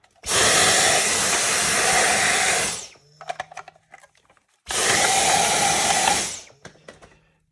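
A vacuum cleaner runs loud and close in two bursts of about three seconds each while cleaning parts of a Roomba J7 or i-Series robot vacuum. Plastic clicks and knocks fill the quiet gap between the bursts.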